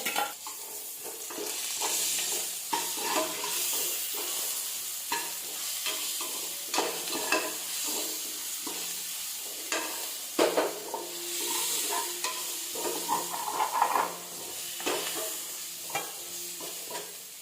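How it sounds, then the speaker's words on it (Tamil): Onions and green chillies with ginger-garlic paste sizzle and fry in a pan for biryani, steady and close, punctuated by repeated stirring scrapes of a spoon throughout. "வெங்காயம் நல்லா வதங்கிடுச்சு."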